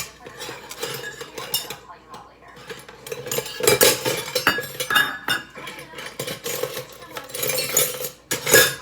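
Metal teaspoon scooping Italian seasoning from a jar, with light clinks and scrapes of spoon against glass and cookware, close and intermittent, with a voice talking over it.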